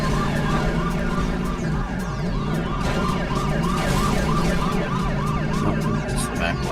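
Police car siren in The Italian Job video game, a loud continuous wailing and yelping tone cycling steadily over engine and road noise, close and dominant throughout.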